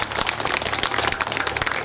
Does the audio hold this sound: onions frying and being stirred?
no